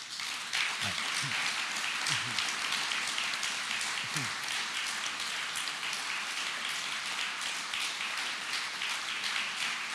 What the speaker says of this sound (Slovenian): mislim, da si zasluži en velik aplavz od vseh nas